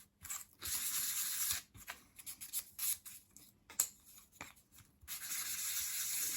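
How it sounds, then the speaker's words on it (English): Steady scratchy sanding of small wooden pieces for a 1/12 scale dollhouse bookcase, in short back-and-forth strokes, close up, with brief pauses between passes. "Once you've sanded all of those pieces, use a soft brush to remove the sanding dust."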